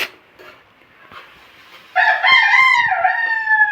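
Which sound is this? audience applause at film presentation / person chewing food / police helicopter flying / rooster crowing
rooster crowing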